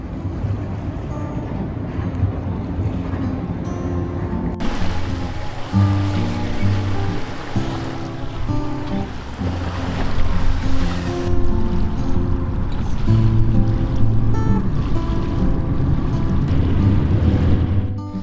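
A sailboat under sail on open water, with a continuous rush of waves and water along the hull mixed with gusty wind buffeting the microphone, loud and close throughout, with the sound swelling and easing as the boat moves.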